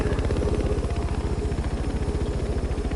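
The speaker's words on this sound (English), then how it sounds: "This pokey little helicopter is what you're given." Small helicopter in the racing game The Crew 2, its rotor thumping in a fast steady pulse under a constant engine drone, loud and close throughout with no talk.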